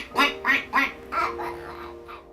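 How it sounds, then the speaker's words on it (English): A duck quacks about five times in a quick run: three loud, close quacks followed by two softer ones, with no talk. "Oh, what's this, Blaine? A duck"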